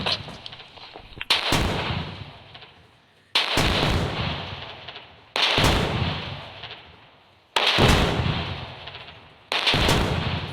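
Heavy gunfire from a machine gun in a Jurassic Park video game comes in four or five loud sustained bursts of about two seconds each, separated by brief gaps, with no talking.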